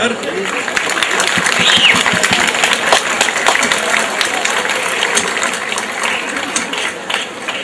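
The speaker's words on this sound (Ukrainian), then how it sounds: "Друзі, в цей момент потрібні ваші оплески." A crowd at an outdoor city day celebration in Horodok applauds with dense, continuous clapping that holds steady for several seconds.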